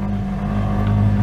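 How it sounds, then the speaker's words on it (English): Tuk tuk engine pulling away in first gear, a close, steady low drone that builds slightly in loudness over a brief moment, with no voices. "And we open the throttle and remove the clutch."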